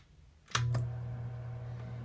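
A Smith Corona Coronet Super 12 electric typewriter being switched on, a sharp double click from the switch, then a steady low motor hum running close and quiet.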